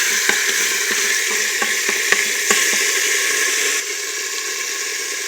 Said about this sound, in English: And some of the crushed garlic. Good. Give a little toss.